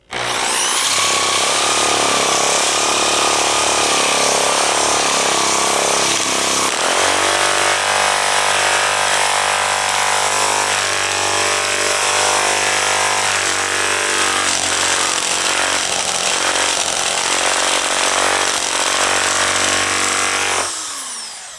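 Drill-mounted sanding attachment grinding across soft, low-density pine wood, a loud continuous raspy buzz with a steady motor hum that shifts pitch midway and holds for about twenty seconds before stopping, close up with no talk.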